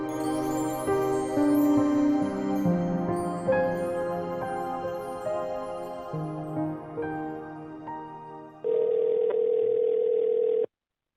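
A telephone call is placed: melodic music plays first, then one steady electronic ringing tone sounds clearly for about two seconds near the end before cutting off.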